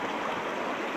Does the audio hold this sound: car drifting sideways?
no